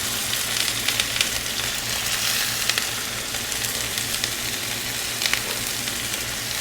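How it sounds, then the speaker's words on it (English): Onions fry in hot oil for vegan arancini, a steady loud sizzle with occasional pops and stirring sounds, close and continuous. "I will start with the onions. And you want to really cook these down well."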